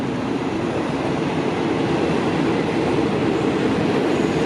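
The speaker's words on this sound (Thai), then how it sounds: "ขบวนตรังกรุงเทพ ผ่านบางซ่อนไปนะ" The Trang–Bangkok train rushes past the Bang Son halt. Its loud, continuous rumble and roar of wheels on rails stays close throughout, with no voices.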